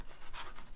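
A medium charcoal pencil scratches across paper in a short burst of close, dry strokes with a soft papery rasp.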